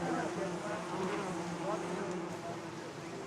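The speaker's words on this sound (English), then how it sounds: "Look at the size of these bees." Large wild honey bees buzzing during a traditional honey hunt in Nepal, a dense, continuous hum that stays close and steady throughout, with voices faintly mixed beneath it.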